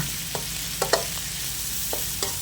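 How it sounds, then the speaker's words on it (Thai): Cucumber, carrot, tomato and shrimp stir-fried together in a pan for a Thai sweet and sour dish, a continuous loud sizzle with a few quick scraping stirs of a spatula, close up. "นี่จ้าผัดให้เข้ากันเลยนะคะ"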